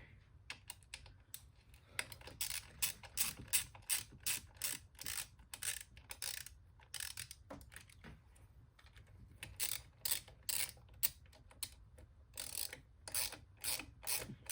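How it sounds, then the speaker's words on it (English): Ratchet snugging small 8mm bolts into an aluminum lower intake manifold on a 1995 Mustang, heard as bursts of rapid, close clicking strokes with short pauses between, steady and fairly quiet throughout. "where is the ratchet?"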